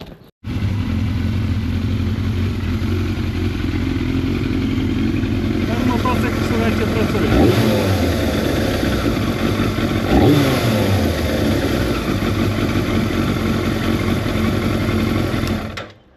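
A Yamaha FZR600 Deltabox sport bike's engine starts and runs loudly up close, blipped and revved twice to rising and falling peaks, with a steady running drone throughout.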